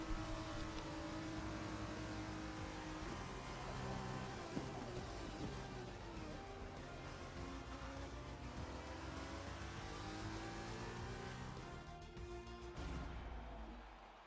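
F1 race cars in the F1 2021 video game at Hungary, engines revving and shifting through gears with rising and falling whines, fairly loud and continuous before cutting off near the end.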